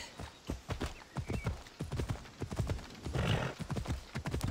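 Horse hooves clip-clopping in Assassin's Creed Odyssey, a steady run of sharp, close, loud hoofbeats with snorts and whinny-like noises mixed in.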